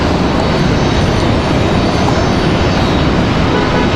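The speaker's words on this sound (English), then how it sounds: "Delta coming from Orlando, Delta 1337, that's another A319." Delta Airbus A319 airliner landing at Raleigh-Durham airport gives a loud, continuous broadband jet roar that stays strong and steady throughout, heard alone.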